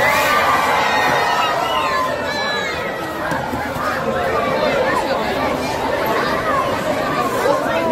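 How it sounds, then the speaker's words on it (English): An audience at an animal show at Taronga Zoo in Australia fills the air with dense crowd chatter and excited children's shouts and screams, a steady loud hubbub throughout. "We think that Cisco recognises the screams from the audience as a bit of fun as well"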